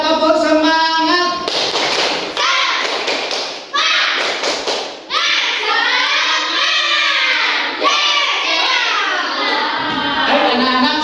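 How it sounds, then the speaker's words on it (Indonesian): Children in a classroom perform a rhythmic clapping chant, with loud patterned claps and thuds mixed with young voices chanting together in a lively, close, steady sequence. "ayo semuanya tepuk semangat"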